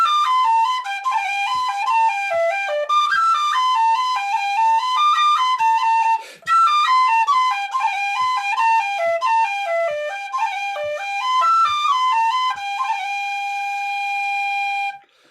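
A tin whistle plays the Stone of Destiny reel alone: bright, clear ornamented melody with quick runs and rolls, a short breath break near the middle, ending on a long sustained note.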